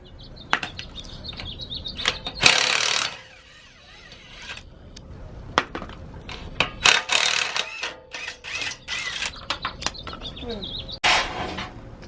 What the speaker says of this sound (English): So right now he's removing the skid plate off the bottom of the 4Runner.